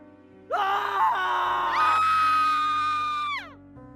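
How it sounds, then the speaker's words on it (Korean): A man and a woman let out a long, piercing scream together as a horror radio drama effect, loud and sustained for about three seconds before trailing off sharply. "남자와 여자의 비명소리."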